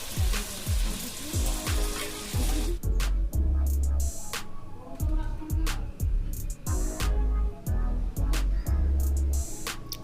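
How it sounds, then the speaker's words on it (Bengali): Mutton frying in plenty of hot oil for biryani, a dense continuous sizzle with crackling pops close by, broken by heavy low thumps and clatter from stirring in the pot. "এরপরে ওই তেলের সঙ্গে আমরা মাংসটা একটু বেশি তেল দিয়ে ভালোভাবে সিদ্ধ এবং ভাজা"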